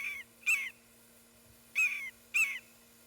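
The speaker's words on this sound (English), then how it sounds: "It is a Guam Kingfisher." A Guam kingfisher gives three loud, harsh, screechy calls spaced apart, each short and rasping, heard up close over a faint steady hum with no talk.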